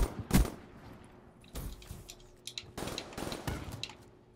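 Shotgun blasts in Call of Duty Black Ops 3 crack out in a few spaced bursts amid other scattered gunfire, moderately loud, with no voices.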